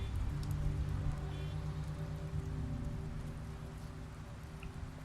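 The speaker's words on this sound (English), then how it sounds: "It started raining quick." Steady rain patters continuously on surfaces in The Wolf Among Us, a dense even wash of drops with a low hum beneath and no voices.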